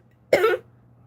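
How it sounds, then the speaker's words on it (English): A man gives one short, sharp cough, close and fairly loud, lasting well under a second against a quiet background. "See, I started coughing and shit."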